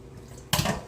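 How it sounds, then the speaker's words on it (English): Water poured into a pot of pork shoulder marinade, a sudden close splashing pour starting halfway through after quiet kitchen room tone. "And we'll add another cup of water."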